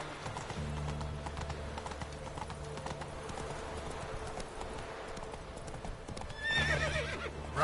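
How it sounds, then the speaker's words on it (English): A horse gallops in The Witcher 3: Wild Hunt in a steady clip-clop rhythm over a low rumbling backdrop, then whinnies loudly near the end. "Run, Roach."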